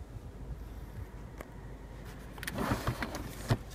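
Rear sunshade motor in a 2014 Lexus LS 460 F Sport cabin: a soft, steady electric whir under low interior hum, with a few light clicks and thumps toward the end.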